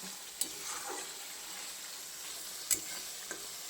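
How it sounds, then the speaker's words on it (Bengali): Poppy seed paste frying and being stirred in hot oil for a hilsa fish dish, a faint steady sizzle with a few soft scraping clicks of the stirring spoon, quiet and close with no talk. "পোস্তটা এখন আর তেলে যতটুকু নাড়ালাম"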